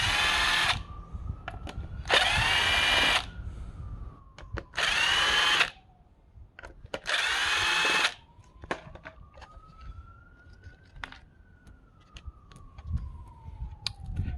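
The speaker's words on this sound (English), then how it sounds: "There are 4 screws at the bottom, at the back, so just use a driver to remove the screws." A power driver whirs in four separate bursts of one to two seconds each while removing screws from a Ford Territory steering wheel cover, close and loud, with quiet handling clicks between and a faint siren wailing in the distance.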